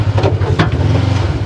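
A Kawasaki KRX 1000 side-by-side engine runs close by with a low, steady throbbing rumble and slight revving pulses.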